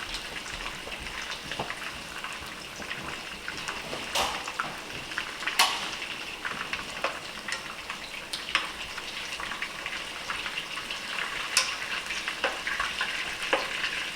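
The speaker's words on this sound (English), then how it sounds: "Browning these just adds that extra depth of flavor to your meatballs." Meatballs brown in a hot pan with a steady crackling sizzle, sprinkled with sharper pops and spatters throughout, close and continuous with no talking.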